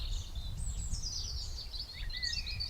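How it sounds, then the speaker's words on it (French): In the countryside, small birds chirp and twitter faintly in the distance over a steady low outdoor rumble, with no talking. "j'entends le bruit des oiseaux"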